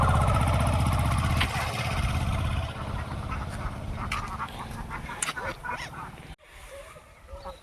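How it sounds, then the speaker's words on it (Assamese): Domestic ducks let out out in a field quack in short bursts amid a rumbling engine and someone speaking nearby, the calls moderately close and irregular. "এইকেইটা হ'ল গাইজ আমাৰ হাঁহ"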